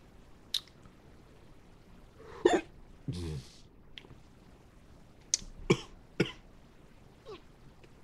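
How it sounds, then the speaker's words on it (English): Repeated hiccups from a man reacting to spicy Hormel Ghost Reaper chili: several short, sharp throat catches scattered through a quiet stretch, with a couple of louder coughing bursts near the start. "We know that hiccups is a usual reaction for me"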